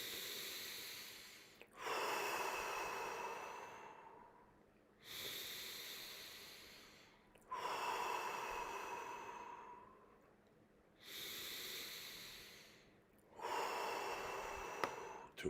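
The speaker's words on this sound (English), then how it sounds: "5 deep breaths, belly breathing only. Fill up your belly, nose in," Slow, deep belly breaths drawn in through the nose and pushed out through the mouth, each long airy exhale followed by a pause, repeating about six times, close and alone.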